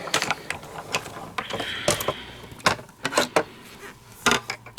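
A card is fed through a die-cutting machine while making a greeting card: a close, steady mechanical grinding with gear whirs and a run of ratcheting clicks. The clicks come in uneven bursts.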